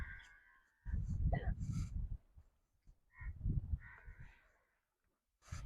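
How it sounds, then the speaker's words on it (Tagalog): A crow caws a few times outdoors on Murjan Island in Dammam, Saudi Arabia, harsh and fairly close, with people talking in between. "Napagaw ng uwak."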